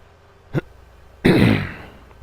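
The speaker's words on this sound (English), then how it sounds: "Sorry I keep clearing my throat." A short throat sound followed by one loud, raspy throat clearing up close, fading out afterward.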